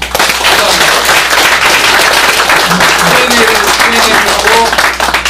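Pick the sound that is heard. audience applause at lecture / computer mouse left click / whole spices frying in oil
audience applause at lecture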